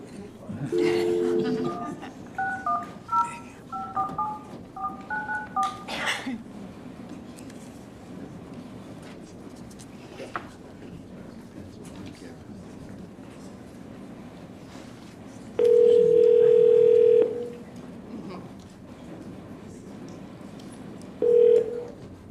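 Telephone keypad dialing tones in a short series during a city council meeting, followed later by a long steady tone and a brief second tone, with people talking faintly in the room.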